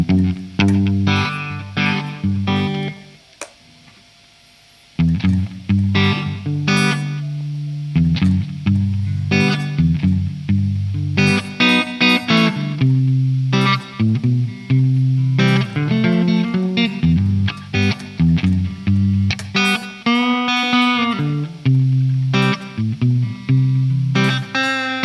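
An EART YXSG3 electric guitar played clean through a Marshall amp without distortion, strummed chords and picked single-note runs ringing bright and full for about twenty-five seconds, with one brief pause near the start and no talking.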